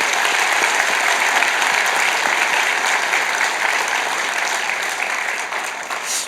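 A church congregation applauds its retired members with loud, sustained clapping that fills the sanctuary and tapers slightly toward the end.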